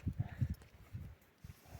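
Hooves of two eight-year-old working horses, one chocolate-coloured, clip-clopping at a walk in Kosmach, a quick run of close knocks followed by a few softer, more spaced steps.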